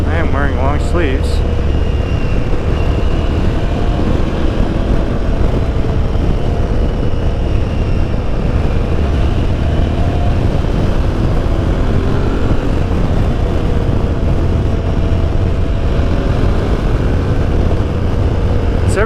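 An Aprilia Tuareg 660 motorcycle ridden at steady speed, its engine drone mixed with heavy wind rush, loud and continuous throughout.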